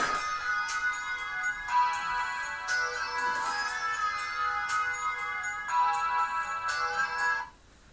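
A phone rings with a repeated electronic ringtone pattern, loud and close, through several cycles before it cuts off abruptly near the end. No one speaks.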